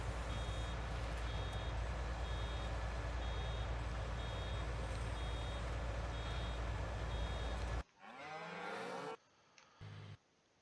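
A truck in Farming Simulator 19 backs up, with steady, evenly spaced reversing beeps over a loud engine drone. The beeping cuts off near the end, leaving a few short mechanical sounds.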